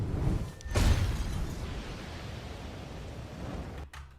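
Small debris sound effect used in impactful sound design, a loud crumbling burst near the start that settles into a sustained gritty rumble and fades out, with no talking.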